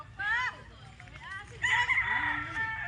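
A rooster crows loudly among white chickens in a yard, with clucking and squawks around the drawn-out call, close by.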